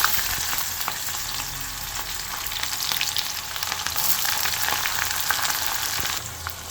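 Chopped onion fries in a pan over toasted cumin, making a loud, continuous hiss of sizzling oil with faint crackles and occasional stirring.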